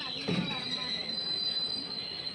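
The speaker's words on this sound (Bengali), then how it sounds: "দেখো এদিক দিয়ে একটা ট্রেন আসছে বলে আমাদের দাঁড় করে রেখেছে।" A passenger train passes close by, its wheels squealing with a steady high-pitched screech over a dense rumble, a brief louder burst near the start.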